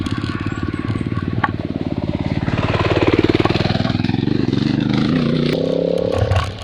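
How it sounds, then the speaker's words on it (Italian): Motorcycles passing on a trail, heard from an e-bike: a close, rapid pulsing engine chatter that swells louder around the middle and stays steady, with rider movement underneath. "Quelli con le moto li facciamo passare."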